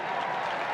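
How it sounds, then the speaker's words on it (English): Baseball stadium crowd at a Royals home game roars in a dense, steady wash of cheering and clapping, loud and sustained throughout. "And you hear the crowd."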